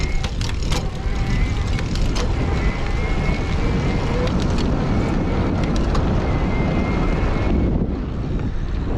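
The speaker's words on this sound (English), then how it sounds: "I'm gonna do some more gear shifting, try to show you how it doesn't mash the gears." A Ride1Up Prodigy XR e-bike motor runs while gears are shifted, giving a steady whirring drone under heavy rushing wind noise, with a few sharp clicks early on and a brief dip near the end.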